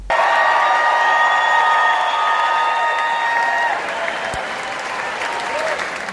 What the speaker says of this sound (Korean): 자리를 꽉 메운 관중들이 오랫동안 기립박수를 했습니다